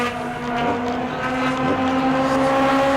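A Mod Mini race car runs on the track at New Smyrna, with a steady, droning engine hum and wind noise at a fairly loud, constant level.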